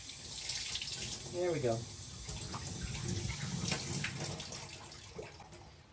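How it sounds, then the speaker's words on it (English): Cold tap water runs steadily while a Bissell 3624 Spot Clean Professional portable carpet cleaner tank is rinsed out in a sink, a continuous splashing flow under a brief spoken remark. "Cold water is fine. Just rinsing that out."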